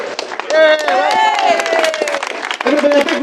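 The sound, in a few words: crowd applauding speaker Neil McCrae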